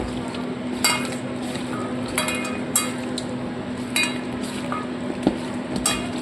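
Chicken being mixed by hand in a bowl with Kashmiri chili powder, turmeric and salt, soft squelching under a steady kitchen hum, with a few light clinks of a dish.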